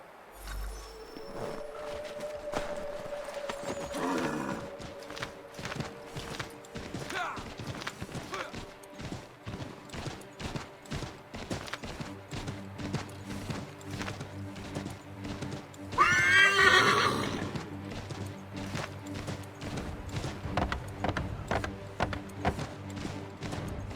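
A horse is ridden in Assassin's Creed, its hooves clopping in an irregular rhythm, with a sharp, loud whinny partway through and brief talk in the background.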